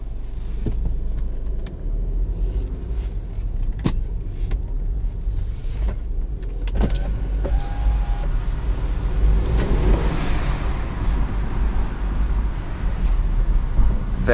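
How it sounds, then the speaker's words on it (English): A 2016 Mini Cooper with the 1.5 engine driving on a test drive in sport mode, a steady low engine drone and road rumble throughout, with a brief rise in revs near the end and a faint blow-off valve hiss. "Very nice sounding engine."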